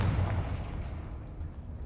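A Confringo spell blast goes off in a wizarding action video game, a loud booming low-end burst that rumbles and decays over about two seconds with no voices.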